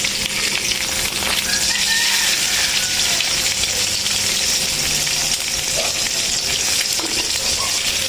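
An egg frying in a pan gives a loud, constant close-up sizzle and crackle of hot oil that holds steady throughout without pause or voices.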